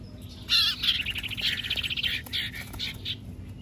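Small wild birds near a trapping spot chirp and tweet in rapid, bright bursts, several calls overlapping close by over a low steady outdoor hum, with no talking.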